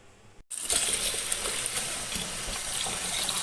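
Rice grains for sticky rice being rinsed under running tap water in a sink, a steady close splashing rush that starts abruptly after a brief quiet moment and continues throughout.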